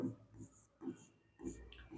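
A pen scratches across paper while working through a Class 10 math problem, giving four short soft strokes in an uneven rhythm, close and quiet, with no voice.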